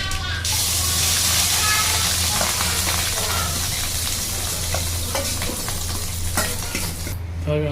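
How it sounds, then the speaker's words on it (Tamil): Fish roe frying in hot oil in a pan, a steady loud sizzle with a spoon stirring and scraping through it, close up and continuous. "சனை ஊற்றின உடனே எண்ணெயில் நல்லா மொட்டை முடியாக நமக்கு பொரிஞ்சு வருங்க"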